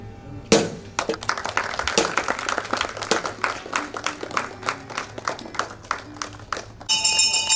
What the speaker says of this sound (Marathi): ॲडव्हान्समध्ये दोघांसाठी एकदा जोरदार टाळ्या होत आहे